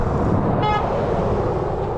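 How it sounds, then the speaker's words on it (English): A car horn toots once, briefly and at a distance, over steady loud traffic and road noise on a town street in Holbrook, Arizona. "There they are honking at me again."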